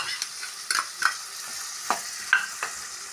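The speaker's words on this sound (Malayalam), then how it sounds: "അതിലേക്ക് ഞാൻ ഒരു സവാള അരിഞ്ഞിടുന്നു. പിന്നെ ഒരു 3 പച്ചമുളക്," Chopped onion and green chillies being stirred in a few spoons of hot oil in a pan, with soft scraping strokes and faint sizzling across a few seconds, close and moderately quiet, no talking.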